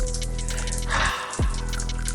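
Water drips onto a person like a shower, a close, wet splash and trickle that swells and falls, followed by a single distinct drip, with no voices.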